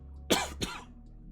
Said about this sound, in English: A stupid cough as well.